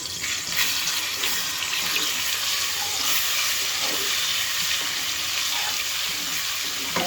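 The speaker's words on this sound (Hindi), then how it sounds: "अब हमने इसमें ऑयल डाला है और इसके अंदर डालेंगे 1 चम्मच लहसुन का" Garlic sautés in hot oil for a chicken lollipop dish, a loud, steady sizzling hiss that keeps on without pause and without talk.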